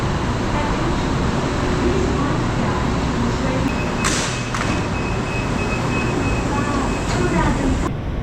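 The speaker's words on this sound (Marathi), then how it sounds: "मित्रांनो तर फायनली मेट्रो आली आता." A driverless metro train pulls into a station in Thailand: a steady, loud rumble fills the platform, with a brief hiss or brake squeal about halfway through and faint background murmur.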